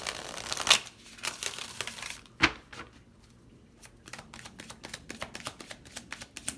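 Tarot cards shuffled by hand in a quick run of papery riffs and soft flicks, with a sharper snap near the start and another midway, close and fairly quiet with no talk.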